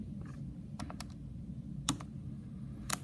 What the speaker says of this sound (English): So I go to my calculator and I type in